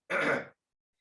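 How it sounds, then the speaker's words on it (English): A single short throaty cough or throat clearing, close and clear, followed by silence. "Let me cough again, I think."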